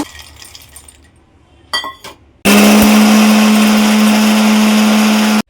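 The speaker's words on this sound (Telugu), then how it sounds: "ఇవి చల్లారిన తర్వాత ఇవి కూడా మిక్సీ పట్టేసుకోవాలి" An Indian mixer grinder runs on cooled roasted ingredients for sunnundalu sweets. A few light clinks and rattles come first, then the motor starts abruptly into a loud, steady, close whirring roar lasting about three seconds.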